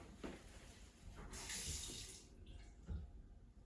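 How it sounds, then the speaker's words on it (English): A nearby sink faucet is opened to bleed pressure from the water line, giving a short, loud rush of running water for about a second amid quieter room noise and a couple of soft knocks. "I'm going to go and turn on a sink faucet nearby and just let some of that pressure out"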